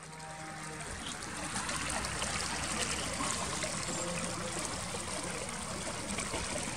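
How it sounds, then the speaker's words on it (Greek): Rainwater runs down a slope in Sykia, Chalkidiki, after a heavy downpour, with the ground soaked and water spreading below. A steady, fairly loud broadband rush of flowing water holds throughout with no talk. "Και εδώ κατεβάζει νερό."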